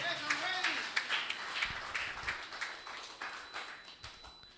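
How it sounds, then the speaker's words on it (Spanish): A church congregation claps hands in a rapid, scattered burst during a bilingual service, many overlapping claps close by over steady background noise. "Give Jesus a hand clap if you're dale ready to Jesús see miracles."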